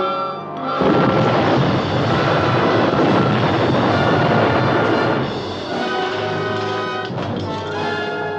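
A torpedo closes fast on a submarine in a film sound effect. A loud rushing, rumbling roar swells and holds for several seconds, then eases slightly toward the end with no speech over it.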